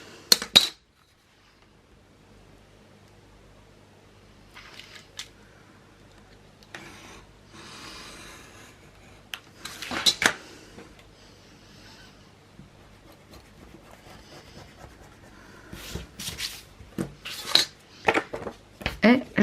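Paper being cut for a shabby chic scrapbook album: faint, sparse snips and scraping strokes, close by, separated by quiet gaps, with a few sharper clicks near the end.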